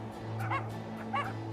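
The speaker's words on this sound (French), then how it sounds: "Les aboiements retentissent jour et nuit." Puppies yip and bark in two short bursts over a steady low hum, fairly close and moderately loud, with whimpery high-pitched tones.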